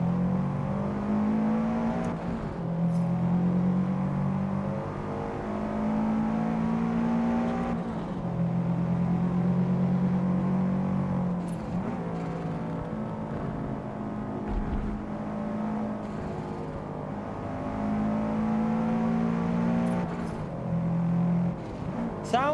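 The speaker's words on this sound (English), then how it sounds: "The audio of the engines is pretty decent, to be fair to them." A Subaru race car engine in the Forza Motorsport video game revs loudly and steadily, climbing through repeated rising pitches with brief dips at each gear change.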